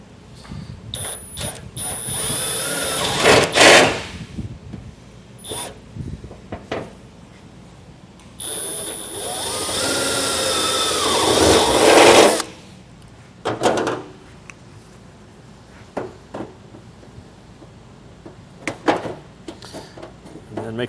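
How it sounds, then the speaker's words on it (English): A drill whines through a sheet metal heat shield in two longer runs and a few short bursts, close and loud, with clanks and handling noise between. "I'm going to drill out the corners here and here."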